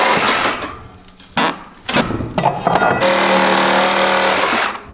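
Power tool whining in bursts while antique radiators are removed from an old mansion; the first two seconds are choppy, and from about three seconds it runs as a steady, loud grinding buzz.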